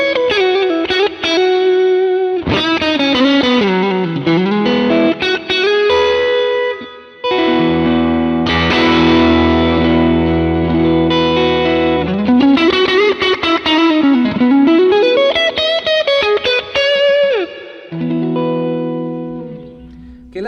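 Electric guitar driven through a Heather Brown Electronicals Blessed Mother overdrive pedal, playing loud, continuous distorted chords and melodic lines with gritty sustain and a brief pause midway.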